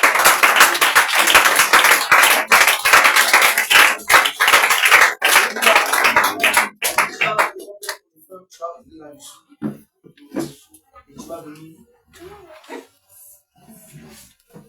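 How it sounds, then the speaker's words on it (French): Church congregation clapping in a dense, loud burst of applause for about seven seconds, then breaking off into scattered claps and voices. "Acclame puissamment Jésus"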